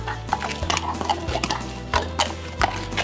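Hooves clop slowly on a hard surface, a few unhurried steps sounding close by against a low background hum.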